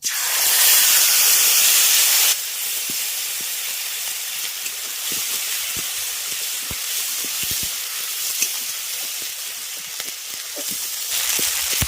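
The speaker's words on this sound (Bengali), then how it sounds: "তারপর আমি দিয়ে দিচ্ছি আদা জিরে আর শুকনো লঙ্কা বাটা" Ginger, cumin and dried chili paste dropped into hot mustard oil, opening with a loud hissing burst of steam that drops suddenly to a steady softer sizzle dotted with small pops and stirring taps.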